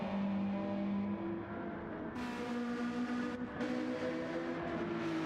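A race car engine in a racing sim at Watkins Glen, a steady loud drone with a rising whine and stepped pitch changes as it climbs through gears, alone without talk.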